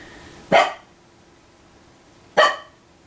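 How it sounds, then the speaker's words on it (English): A dog barks twice, two single loud barks nearly two seconds apart, close by in an otherwise quiet room. "He's been barking all day today."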